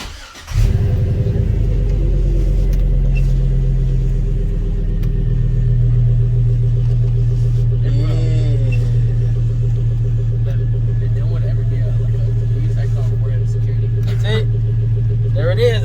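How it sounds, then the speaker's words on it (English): Engine of a 2003-2006 GMC Yukon or Chevy Tahoe truck cranks and catches, then idles in a steady close low rumble, with someone talking over it. "Start the truck."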